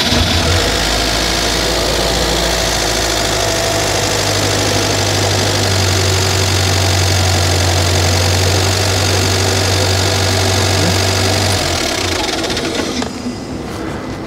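A UAZ Bukhanka van engine, freshly repaired with new spark plugs, oil, air filter and alternator belt, idles in a loud, steady low rumble with slight knocking, running evenly before cutting off near the end.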